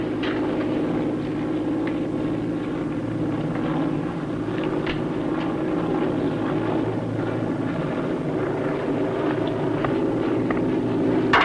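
Navy propeller aircraft in flight, a steady, continuous engine drone with a deep low rumble that holds evenly throughout, close and loud with no talking over it.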